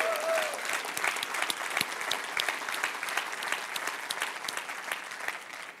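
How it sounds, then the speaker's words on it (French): A church congregation in Laval applauds steadily, a dense, even wash of many hands clapping at moderate distance, with a brief voice at the start. "est-ce que Laval, on peut manifester notre excitation par une main d'applaudissement pour l'Église de Terrebonne?"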